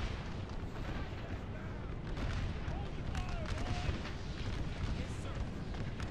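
Artillery fire rumbling through a Napoleon Total War Gettysburg mod battle, a dense, continuous low roar of distant cannon and musketry with faint voices mixed underneath.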